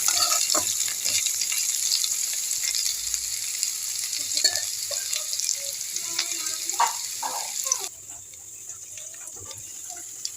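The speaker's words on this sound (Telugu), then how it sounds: "ఇంకా ఇదిగోండి మెంతులు ఆవాలు కొంచెం వేసుకొని" Fenugreek and mustard seeds fry in hot oil for a chutney, giving a steady close sizzle with faint crackles and light stirring clatter that stops abruptly near the end.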